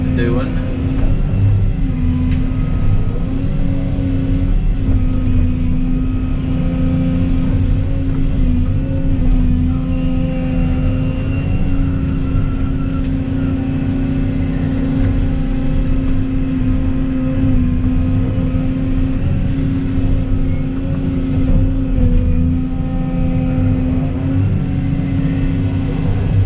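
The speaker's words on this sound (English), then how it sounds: "I just started the blower up," Blower roaring steadily beside an outdoor burn pile, a loud continuous mechanical drone with a low hum that holds constant throughout, with no other sounds breaking through.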